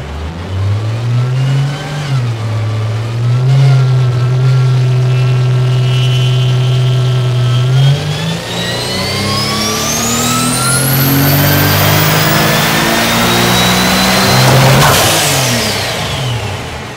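Car engine on a dynamometer test bench, loud and close, holding a steady roaring note before revving up hard through rising pitch, then dropping back near the end.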